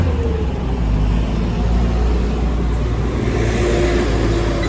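A Mazda BT50 2.5 turbo 4x4 pickup engine rumbles steadily nearby, a constant low drone with road noise and no talking.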